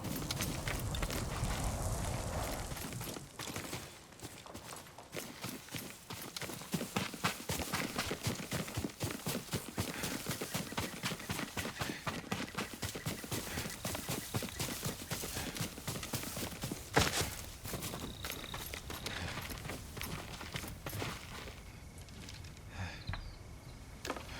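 A horse's hoofbeats in the video game Ghost of Tsushima make a long, even clip-clop at a brisk pace, close and continuous for most of the stretch over a low outdoor ambience, with a few thumps and shifts near the end.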